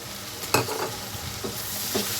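Ginger garlic paste sizzling in hot oil in a pan while being stirred, a steady fry hiss with a few scraping strokes of the spoon, close up and without talk.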